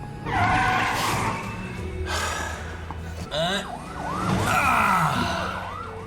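A wailing ambulance siren rises and falls amid loud commotion, with a voice gasping partway through.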